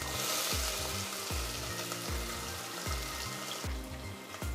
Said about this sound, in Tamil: அது குறைஞ்ச உடனே வெங்காயம் ஆட் பண்ணிக்கணும்.